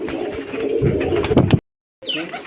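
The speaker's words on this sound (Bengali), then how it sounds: "এটা জাক পিলং কবুতর" Giribaj pigeons, a local Rajshahi breed, coo softly and steadily up close amid a murmur of indoor sound, breaking off into a short silence before resuming.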